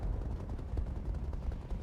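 A barrage of missiles from an MRM Scorpion in the RogueTech game, a fast, low rumbling volley of many overlapping launches and impacts, fairly quiet and brief with no voices.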